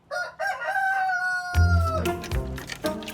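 A rooster crows loudly and close among free-ranging chickens roaming a small farming town, with a long drawn-out call followed by clucking and ruffling noises.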